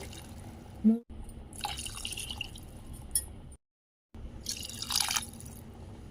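Glasses of water are poured into a pot of goat head curry in a home kitchen, two close splashing bursts of gushing liquid separated by a short gap, with a faint clink at the start and no speech.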